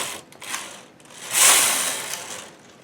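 A domestic knitting machine's main carriage swept across the needle bed for two knitted rows, a close, dry mechanical rasp that swells and fades in two passes with no talking.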